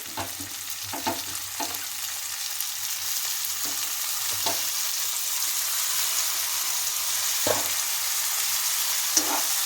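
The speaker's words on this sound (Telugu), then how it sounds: "ఈ పచ్చిమిర్చి, ఉల్లిపాయ ఫ్రై అయ్యాక మనం కట్ చేసుకుని పెట్టుకున్న టమాటాని కూడా యాడ్ చేసుకోవాలి" Tomatoes added to green chilies and onions frying in a pan for boiled egg curry, a steady broadband sizzle throughout with occasional louder stirring scrapes from a ladle, close and alone.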